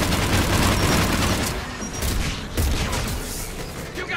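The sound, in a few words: gunfire in the video game Mass Effect 3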